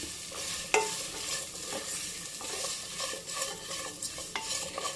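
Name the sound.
small onions being sautéed in a pan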